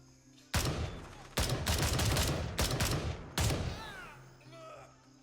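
Loud rifle shots in the Gray Zone Warfare video game: a single crack, then a burst of several shots, then one more shot. Each echoes and fades out across the area.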